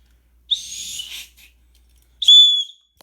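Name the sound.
whistle blow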